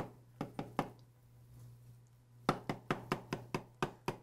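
A knife cuts a quiche lorraine in half, striking the board below in sharp, close knocks: three quick chops, a pause, then a faster run of about eight more, with a low steady hum underneath.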